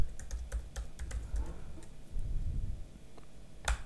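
Rapid clicking of keys on a computer keyboard as a terminal command is typed, an irregular burst of taps then a pause and a final press, close and fairly quiet with no talking.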